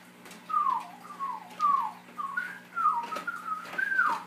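A 7-year-old child whistling a simple tune, a run of gliding, slurred notes heard clearly over a faint background hum, as from a recording.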